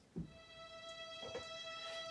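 A steady, sustained violin-like tone holds a single E reference pitch for violin tuning, faint and even throughout, with a few soft knocks near the start.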